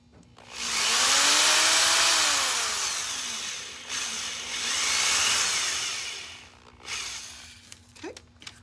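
A power drill bores a hole through a tray into a catalog beneath, whining loudly with its pitch rising and falling over about six seconds, pausing briefly mid-way, then stopping; a short knock follows at the end.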